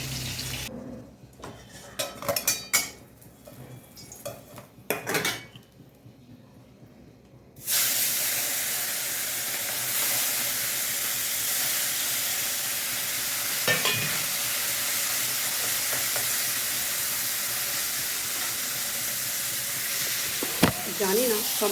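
Morola fish and pointed gourd frying together in a pan, giving a steady loud sizzle that starts abruptly partway through and continues without a break, after a stretch of quieter kitchen clatter.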